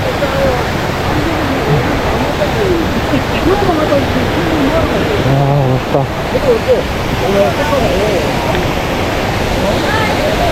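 Ieki Waterfall, the first fall on Gariwangsan, gives a loud, steady, broadband roar of falling water. It stays close and continuous throughout while a person speaks briefly over it.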